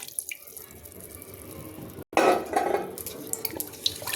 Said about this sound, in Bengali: চিকেন স্টকটা দিয়ে দিলাম।